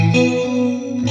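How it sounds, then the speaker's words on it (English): A sustained electric guitar chord shimmers with a wide chorus effect from an IK Multimedia iRig Stomp I/O, loud and close, changing chords briefly near the start and end. "Let's get a little, chorus going, maybe some delay."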